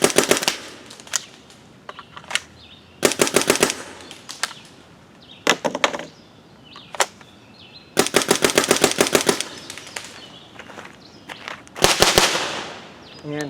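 An Emek MG100 magfed paintball marker fires round paintballs outdoors at high velocity, sounding as loud, sharp pops in rapid strings. The bursts come in several clusters broken by brief pauses, with little talk.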